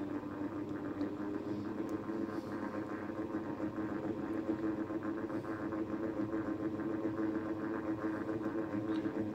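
A BFT gate operator motor running, a steady low mechanical hum with a faint whir, continuous and even throughout, no voices.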